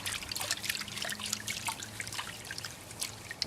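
Water sloshes and trickles in a gold pan of crushed quartz, a steady run of small splashes and dribbles at close range with no talk.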